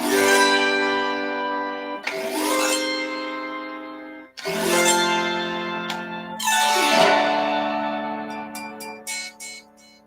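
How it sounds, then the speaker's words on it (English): Four bright, ringing chords strummed one after another on an electronic chroma harp, each shimmering and slowly fading before the next, with a few soft clicks near the end. "I can push some buttons and make some chords with chroma harp"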